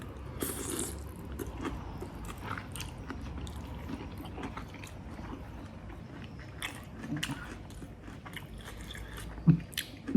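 Hot authentic Vietnamese soup being eaten up close, with wet slurps and chewing crunches scattered irregularly through the stretch, one louder burst near the end, no talking.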